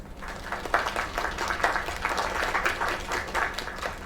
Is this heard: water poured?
no